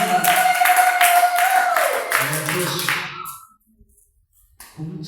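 A church congregation claps rhythmically for the Lord in a loud, even beat for about three seconds, with a voice over it; the clapping tapers off into near silence before speech resumes.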